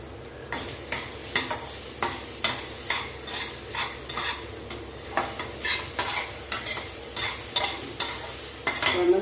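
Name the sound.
stirring pear rice in a pan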